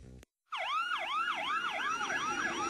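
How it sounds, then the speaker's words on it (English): Wailing emergency vehicle siren, a loud rising-and-falling wail cycling steadily after a brief silence, with a second overlapping siren tone, close and continuous. "Sirens,"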